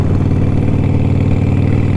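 Idling V-twin Harley-Davidson Sportster motorcycle engine, a steady low, throbbing rumble with a continuous even pulse, close and loud throughout with no voices.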